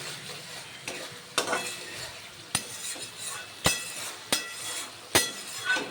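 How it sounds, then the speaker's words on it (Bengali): Spice paste for a fish curry sautéing in oil sizzles steadily, broken by regular sharp clinks of a metal utensil scraping and striking the pan roughly once a second. "দেখুন মশলা থেকে তেল বেরিয়ে এসেছে, মশলা খুব সুন্দরভাবে কষানো হয়ে গেছে।"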